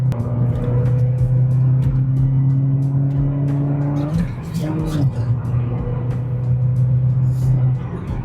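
A Peugeot 406 pulls away at low revs on a rough, broken road, its engine drone steady and close with a brief dip in pitch midway, while someone talks over it.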